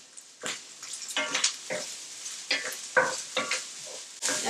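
Ginger and garlic fry in hot vegetable oil in a pan, with a close, crackling sizzle that surges in uneven bursts as the pan is stirred, ending in a louder flare.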